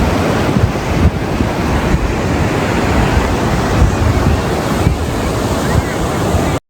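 Rough, churning sea surf rolls steadily onto the beach at Digha Mohona in the morning, a continuous loud roar of breaking waves with wind buffeting the microphone throughout and no voices.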